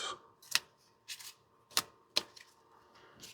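Tarot cards are shuffled by hand in a few quick, crisp riffling bursts separated by short pauses, close and fairly quiet.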